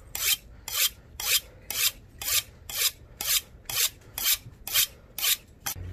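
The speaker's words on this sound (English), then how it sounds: "so got the nice sharpener. With this, you gotta make sure everything is extra sharp." A knife is drawn repeatedly through a sharpener before filleting shark and stingray, about a dozen evenly spaced, loud, close scraping rasps in a steady rhythm.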